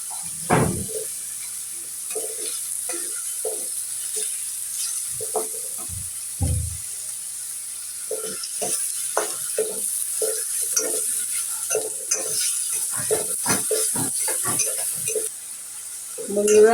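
Onions sizzling and frying in a pan while being stirred, with a steady close hiss and repeated scraping, clattering stirs of the utensil against the pan.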